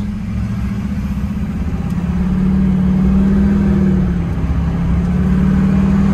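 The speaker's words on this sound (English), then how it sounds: "Let's see if it shifts through all the gears." Car engine running steadily and loud throughout, its low drone holding and shifting slightly in pitch as the transmission moves up through the gears, with no talk over it.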